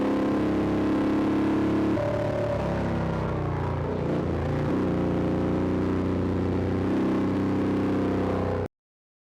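Indian Challenger RR bagger race bike engine droning steadily at close range, its pitch shifting and dipping midway before settling into a sustained roar that cuts off abruptly.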